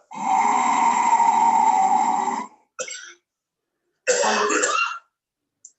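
Someone clears their throat in a long, rough rasp, then gives a short cough and a second throaty clearing, close up with quiet gaps.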